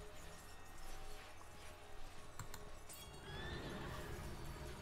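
A horse whinnies with a rising, quavering cry over a steady background of galloping hooves and ambient game noise in Heroes of the Storm, fairly loud and close.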